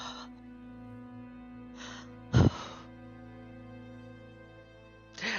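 A human voice imitates a deep, weight-relieving gasp: one sharp, loud intake of breath standing out briefly over a quiet steady hum, with faint breathy sounds around it.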